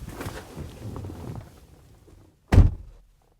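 The driver door of a new Four Winds Class C diesel motorhome shuts with a single solid thunk after a stretch of low rustling and handling noise, close by.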